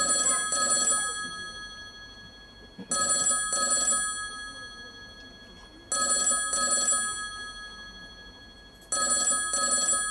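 A telephone rings in repeated double bursts, four rings spaced about three seconds apart, fairly close and clear over a quiet indoor background.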